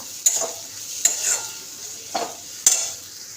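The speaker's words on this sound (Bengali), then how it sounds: "এবারে আমি ভালো করে এটাকে কষবো। এটা একটু ভাজা হোক" Masala sizzling as it fries in a pan while a spoon scrapes and stirs, with four sharp metallic stirring strokes spaced unevenly over a soft continuous sizzle, close and fairly loud.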